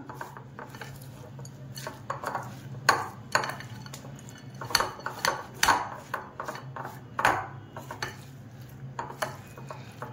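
A spoon stirs a chocolate sweet mixture in a metal pan, producing repeated scraping and clinking knocks in an uneven rhythm, close and moderately loud, with a low steady hum underneath.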